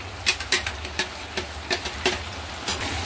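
Spoon stirring masala through cashew chicken in a hot pan, soft irregular scrapes and sizzling taps repeating every half second or so, fairly quiet and close with no talking.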